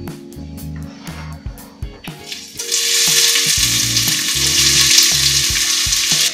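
Chopped onion dropped into olive oil heated over medium heat in a saucepan, for squid in ink, erupting into a loud steady sizzle after a couple of seconds of background music and continuing strongly.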